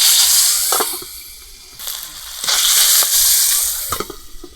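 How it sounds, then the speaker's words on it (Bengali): Round potato slices sizzle in hot oil for a catfish curry, a loud steady hiss with bursts of crackle and spatter that swell and ease across the stretch, no voices. "এগুলো এবারে ভেজে নেব।"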